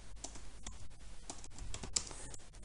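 Rapid, close typing on a computer keyboard, with a steady run of light key clicks and no voices.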